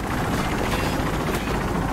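Helicopter in the video game Call of Duty: Modern Warfare Remastered, a dense, loud, continuous rotor and engine roar with no pauses.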